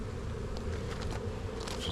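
Honey bees hum in a thick, constant drone around the hive, a few individual buzzes passing close by.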